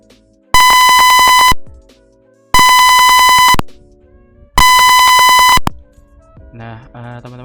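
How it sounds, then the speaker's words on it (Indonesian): Three loud, steady electronic tones from an Arduino-driven buzzer, each lasting about a second with even gaps between them, followed by faint, brief sounds at the end. "tadi suara buzzernya itu seperti itu."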